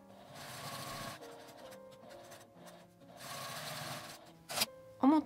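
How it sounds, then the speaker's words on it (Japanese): A sewing machine edge-stitches both ends of a folded fabric strap for a scrap-fabric eyeglass pocket. The motor whirs close by in steady runs separated by short pauses, and there is no speech. "両端に端ミシンをかけます。"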